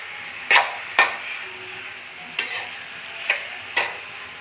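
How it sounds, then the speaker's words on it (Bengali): Radish greens being stirred in a frying pan, with a spatula scraping and tapping in several sharp strokes over a soft background sizzle, close and alone. "তো এভাবে লাড়তে থাকবেন"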